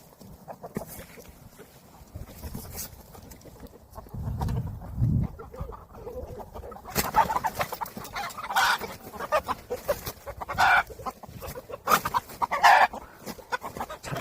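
Chicken clucking and fowl calls come in scattered bursts as people try to lure and catch a black rooster with feed, with some rustling and shuffling movement in between; no one speaks.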